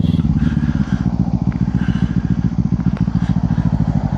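Kawasaki Ninja 500 motorcycle engine running steadily while riding, a loud continuous low throbbing drone with rapid pulsing firing rhythm close to the microphone, no voices over it.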